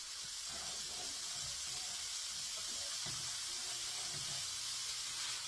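Meat dropped into a hot pan for Philly sliders sizzles steadily, a close, even hiss that holds for several seconds with faint clatter underneath.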